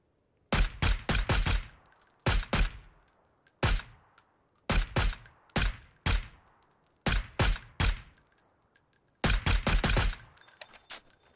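Rapid bursts of automatic gunfire in PUBG, several loud clusters of shots separated by short silent gaps, crisp and close.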